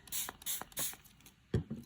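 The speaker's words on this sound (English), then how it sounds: "I'm going to spray into the wet ink" Spray bottle misting water onto wet distress ink: a run of short, close, hissy pumps, about four quick sprays, then a louder clicking burst near the end, with nobody talking.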